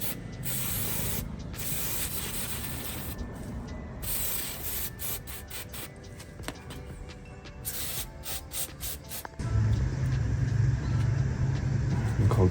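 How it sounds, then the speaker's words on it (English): A degreaser aerosol hisses onto a dirty bicycle chain in a few sustained bursts with brief gaps, close and fairly loud. A low rumble joins in near the end. "today it's time to get the chain degreased and put some new oil on"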